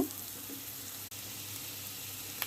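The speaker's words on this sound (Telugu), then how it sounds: "ఈ వెజిటేబుల్స్ అన్నీ దీంట్లోకి వేసి బాగా మగ్గించుకోవాలి" Vegetables sauté in a hot pan for ragi soup, giving a steady, even sizzle throughout with a brief stir or scrape near the start.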